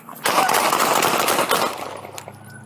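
Rapid gunshots ring out during a police bodycam encounter, a loud, close, dense volley lasting a couple of seconds that then fades into ringing and background noise.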